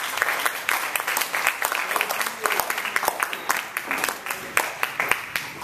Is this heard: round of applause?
yes